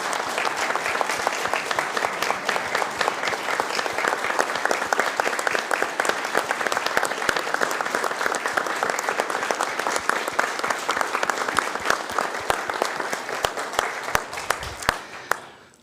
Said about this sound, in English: Please join me with one more round of applause for our 2008 class of Hometown Heroes